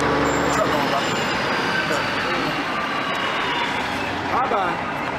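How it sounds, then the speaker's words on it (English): A truck passes on a nearby road, a loud, steady broadband roar that fills the whole clip and swells slightly near the end, with faint voices mixed in. "truck going by"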